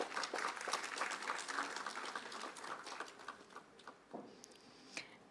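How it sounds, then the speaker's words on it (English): At an AI summit event, a roomful of attendees claps in a dense, steady patter that fades to a few scattered claps, heard faint and from a distance. "Let's have an enthusiastic round of applause"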